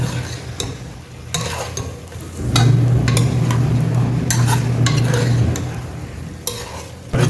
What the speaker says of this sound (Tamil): இது ஒரு 5 நிமிஷம் கொஞ்சம் இந்த எண்ணெயில் கொஞ்சம் வதங்கட்டும் பீஃப்